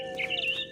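Mama bird in What Remains of Edith Finch gives a short, bright chirping call in the game, a brief cluster of high tweets over a steady low tone.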